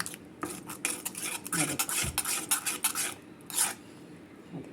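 Henna paste for the hair being stirred and mixed in a bowl makes soft, close scraping and clinking strokes in an uneven rhythm, with a few louder rubs, and no talking.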